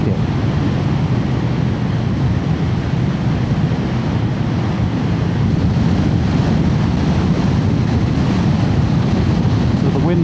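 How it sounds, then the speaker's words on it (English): Heavy wind blast roars over a naked BMW R12 nineT motorcycle cruising at around 85 mph in cold autumn weather, a constant loud buffeting rumble that fills the whole stretch. "So the wind blast, as you can imagine, on a naked bike at, what are we doing, 85 or so."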